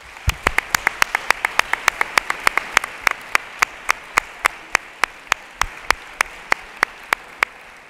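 Sharp, evenly spaced claps ring out at the closing of an international congress on cooperative physical activities, a steady rhythmic beat of single hand claps running throughout rather than a dense crowd wash.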